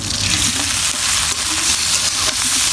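Onion frying in a pan for a chickpea dish, with a bay leaf and dried chili, giving a loud, steady hissing sizzle broken by scraping stirs at irregular intervals, close and without talk.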